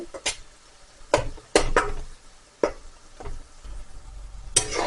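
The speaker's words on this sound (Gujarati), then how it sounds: "તમે જોઈ શકો છો કે આપણી ભાજી સરસ શેકાવા આવી છે ભાજીમાંથી બધું તેલ પણ છૂટું થઈ રહ્યું છે" Spinach being sautéed in oil in a pan, with a spoon scraping and knocking against the pan in separate irregular strokes over a quiet, faint background.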